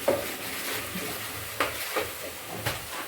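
Ginger-chili paste fries in a pan with a soft steady sizzle while a utensil stirs it, making a few scraping clacks at intervals.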